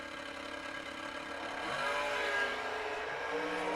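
Drag racing at a Great American USA $500K night race, a door car lined up against a dragster, with engine roar climbing steadily and growing louder midway as the cars pull away, carried through distant crowd and track ambience.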